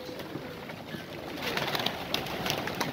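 Old-breed Iraqi tumbler pigeons coo softly and repeatedly nearby, with low rustling and faint background noise.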